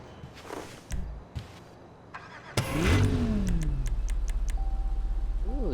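Progen supercar engine in GTA 5 cranks and fires with a sharp burst, revs up and settles into a steady, loud idle with a rapid pulsing rhythm, after a few faint footsteps and a door-like thud.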